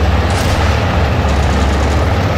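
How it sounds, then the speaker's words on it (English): Explosions and artillery fire from the World War tank video game Steel Fury make loud, continuous booming and heavy rumbling, with blasts overlapping closely. "you can see this is really here, World War, exploding everywhere, explosions everywhere"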